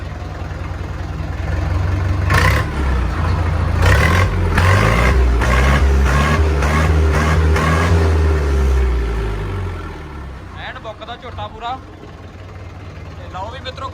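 A 2001 Sonalika tractor's diesel engine starts and revs loudly for several seconds with rhythmic bursts, then settles into a quieter idle.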